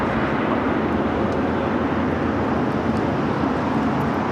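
A steady, loud, broadband jet roar from an airliner taking off from runway 25 Right at LAX. It holds constant throughout with no talk.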